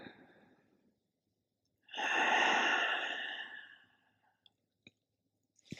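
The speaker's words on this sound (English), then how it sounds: "One more breath." Deep inhale and long exhale during a slow, heart-opening yoga flow: a soft breathy rush swells loudly for about two seconds, then fades, followed by small clicks and a faint final breath.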